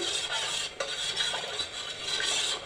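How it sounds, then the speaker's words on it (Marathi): Spoon stirs buttermilk kadhi made from curdled milk in a pan, with soft, continuous scraping and light clinking against the metal, quiet and close. "आता मी थोडंसं इथे आणि इथे आता मिक्स करून घेते"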